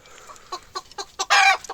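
Chickens on a poultry farm, including Japanese breeds such as the long-tailed Phoenix, cluck in short, close bursts, rising to one loud drawn-out squawk before a few final clucks.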